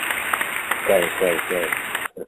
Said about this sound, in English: Round of applause. Give it up.